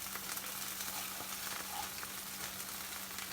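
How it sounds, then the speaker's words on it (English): Turkey queso burger patties frying in a pan give a steady, quiet, broadband sizzle that holds evenly throughout with no talking over it. "Okay, so I'm going to flip these."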